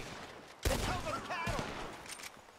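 Gunfire in the video game Red Dead Redemption 2, a sudden loud burst of shots followed by a further crack, with people talking over and between the shots.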